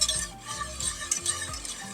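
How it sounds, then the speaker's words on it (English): A whisk working mac and cheese sauce in a pot, with soft rhythmic knocks and scrapes repeating roughly every half second against a quiet kitchen background. "You may have to give it a whisk here and there to make sure that it combines nice"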